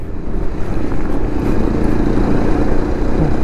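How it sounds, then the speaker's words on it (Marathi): An adventure motorcycle ridden off road beside highway traffic, its engine a loud, steady, close rumble that fills the whole stretch with no pauses. "लेफ्टने थोडं सरकत सरकत थोडं थोडं करत ऑफ रोड करत पुढे जाऊया."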